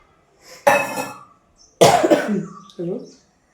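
Two harsh coughs up close, each a short burst with a raspy tail, followed by a softer throaty sound.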